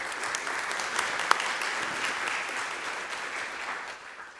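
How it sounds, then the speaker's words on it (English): At a community college board of trustees meeting, a room claps in congratulation: a broad, sustained patter of many hands with one sharp nearby clap, carrying on evenly before gradually tapering off. "So please join me in a round of applause and congratulations for Emmanuel."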